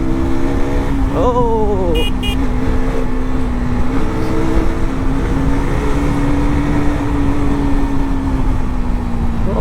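A motorbike engine runs close by with a steady, droning hum for the whole stretch, and its pitch rises briefly in a quick rev near the start.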